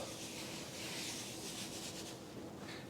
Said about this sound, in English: Rub the flour into the cloth.